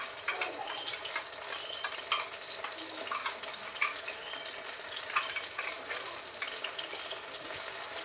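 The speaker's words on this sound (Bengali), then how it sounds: "মশলাটা দিয়ে ভালো করে নাড়িয়ে চাড়িয়ে যতক্ষণ না তেল বার হবে ততক্ষণ ভালো করে নাড়িয়ে চাড়িয়ে নেব" Spice masala fries in hot oil while being stirred for a fish curry, a dense continuous sizzle broken by frequent scraping and clinking strokes of the spoon, close by with no talk.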